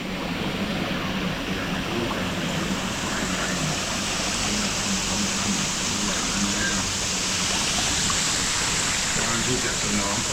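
Water flows steadily at Golden Mount in Thailand, a loud, continuous rushing wash that holds at one level for the whole stretch, with no break or change in rhythm.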